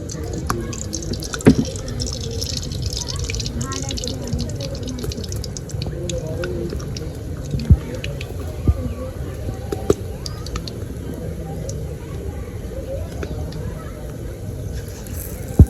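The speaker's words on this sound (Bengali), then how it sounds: "টেনে টেনে তেলের মধ্যে ছেড়ে দেবো" Battered eggplant slices (beguni) frying in hot oil, a continuous bubbling, crackling sizzle with scattered sharper pops throughout, heard beneath a voice talking.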